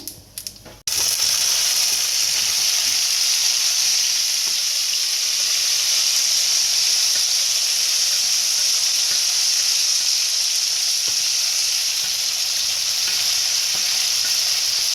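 Jujubes (boroi) frying in hot oil with panch phoron spices while a sweet-sour jujube pickle is made, giving a loud, steady, close sizzle that starts abruptly and hisses without a break to the end.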